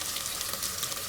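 A tablespoon of ginger garlic paste fries in a pan while coconut milk rice is prepared, giving a soft, even sizzle throughout with no voices.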